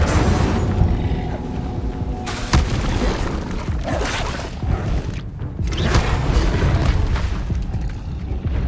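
Incendio fire spell cast again and again in Hogwarts Legacy on PS5, producing loud bursts and whooshing blasts of flame with deep booming thumps over continuous game ambience, all without speech.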